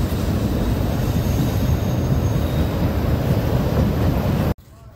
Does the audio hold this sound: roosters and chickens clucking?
no